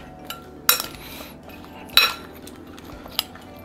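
A spoon clinks against a bowl while white vinegar is mixed in. There are two sharp metallic taps and a lighter one later, set against quiet room noise.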